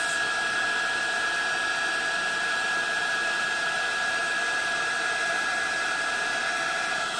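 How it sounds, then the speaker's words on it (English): A heat embossing tool blows hot air over a card in a steady, loud, unbroken roar. The hiss holds even throughout with no pauses or voices. "Sorry for the noise of the machine."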